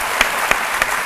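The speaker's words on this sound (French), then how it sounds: "On l'applaudit pour l'encourager." A studio audience on a midday TV show claps in dense, continuous applause, brief and even, with a few sharper claps standing out.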